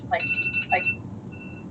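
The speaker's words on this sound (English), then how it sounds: "That was my alarm through the video." A phone alarm goes off with two short electronic ringtone bursts close by, followed by a faint lingering tone, while a person talks.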